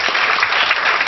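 A church congregation applauds a visiting preacher, a brief burst of dense, steady clapping close by with no talk over it.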